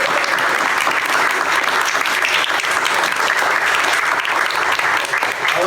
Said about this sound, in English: would you just give her another round of applause?